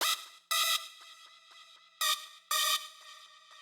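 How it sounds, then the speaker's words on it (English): A synth patch called Pitch Shift, built in Native Instruments Massive, fires short bright bursts separated by softer repeating tonal pulses, forming a choppy rhythmic pattern with no voices. "I've got a synth called Pitch Shift. And again, it's a Massive patch I've made"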